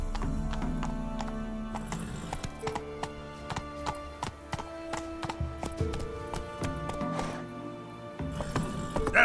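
Roach, the horse from The Witcher 3, clip-clops at a steady gallop, hooves striking in a quick, uneven rhythm close by amid faint game ambience and tonal music, with a brief snort or whinny-like sound.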